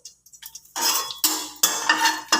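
Dried red chillies dropped into hot oil in a pan while cooking Bengali shukto, bursts of sizzling and crackling that start and stop several times, close and fairly loud, with no talk.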